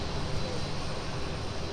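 A UPS cargo aircraft taxiing at Minneapolis–Saint Paul airport, a steady broadband engine roar heard from a distance that holds level throughout.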